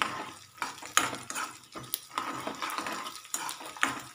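Peanuts fry in oil in a pan with a spoon scraping and stirring, and there are soft clinks of metal utensils against the pan under a faint, steady background. No one speaks.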